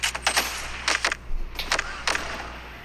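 Video game gunfire in quick bursts of rapid shots, fairly close and loud over a low steady background hum.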